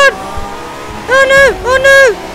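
Engine of a McLaren race car in The Crew 2 racing game, two loud rising-and-falling revving bursts near the end, with a fainter engine drone at the start and a voice talking over it.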